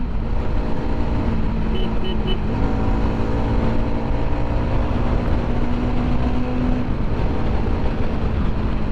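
Hero Karizma XMR 210 motorcycle engine revving hard in its power band, a steady loud drone with a sustained rising tone and constant wind rush throughout, no talking.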